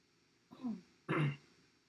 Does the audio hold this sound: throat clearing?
yes